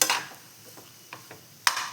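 Rice mixed with carrot being stirred in a cooking pot, heard as a few scattered light scrapes and clinks of a spoon against the pot with soft gaps between them.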